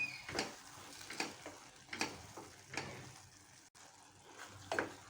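Green chillies sauté in a pan for a tomato side dish, a soft continuous sizzle broken by repeated scraping stirs of a spoon at a steady rhythm, close and alone with no talk.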